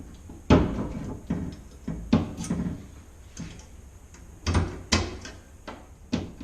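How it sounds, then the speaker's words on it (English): Key turning in the lock of a Mobtown Offroad locking bed storage door on a Toyota Tacoma, giving a series of sharp close clicks and clunks spaced through the clip with quiet gaps between. "And go ahead and give the key a twist."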